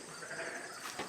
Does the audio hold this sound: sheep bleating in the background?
yes